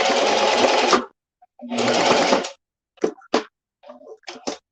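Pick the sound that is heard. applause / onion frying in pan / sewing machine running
sewing machine running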